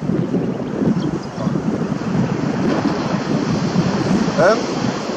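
Ocean surf at a beach rushes steadily while strong wind buffets the microphone, a continuous loud wash with faint voices underneath.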